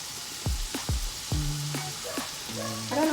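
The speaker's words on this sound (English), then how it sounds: "Now I'm gonna slowly add my corn." Sweet corn kernels drop into a hot pan and sizzle, with several sharp bursts of frying as handfuls land, then a steady crackle; close and fairly quiet, no talking.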